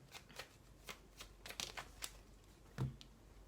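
Tarot cards shuffled and drawn for a reading, a quiet run of soft crisp riffles and flicks with brief pauses and a small slap near the end, close and alone.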